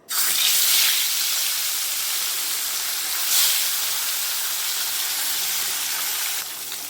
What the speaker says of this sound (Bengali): এরপর মাছগুলো ছেড়ে দেব